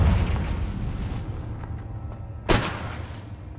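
A Confringo fire spell bursting in Hogwarts Legacy: a rumbling, dense explosion that decays over a few seconds, then a second sharp blast pops near the end, loud and without talk.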